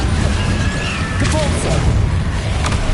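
Hogwarts Legacy combat: an Expelliarmus disarming spell fires amid a loud, continuous battle din, with booming hits and crackling magical bursts layered close over a rumbling background.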